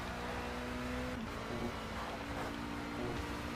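Engine of an Alpine A450 race car in a video game at the Nürburgring, held at a steady high drone with a faint tonal whine, continuous and close throughout.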